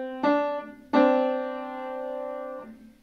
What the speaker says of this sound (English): So we start on C, then we play D, and then we play them together.